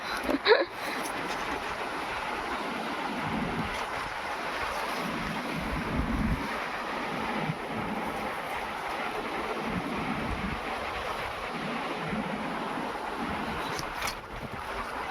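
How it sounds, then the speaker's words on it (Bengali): A breeze after a hot day blows across the microphone outdoors, giving a steady rushing roar with a few louder buffets and knocks at the start and near the end. "আমাদের এখানে দারুণ হাওয়া, এত সুন্দর হাওয়া।"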